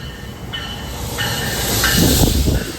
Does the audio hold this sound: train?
yes